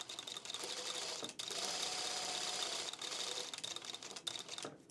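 A sewing machine stitching fabric, a steady close whirring chatter of rapid stitching that pauses briefly twice and then resumes, with no speech.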